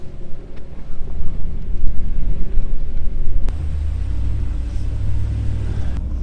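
A vehicle engine rumbles low and steady as it crawls up a rough off-road slope, growing heavier and louder partway through, with some wind buffeting the microphone.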